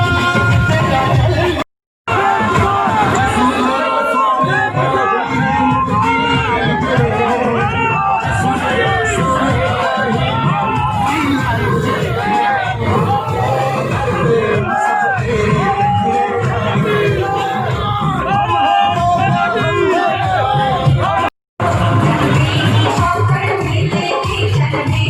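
Loud crowd at a farmers' tractor rally in Alwar, Rajasthan, shouting a slogan together in steady waves of massed voices and yells, continuous across the clip apart from two brief gaps.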